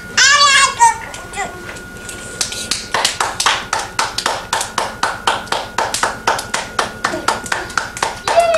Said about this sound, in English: How about you clap your hands?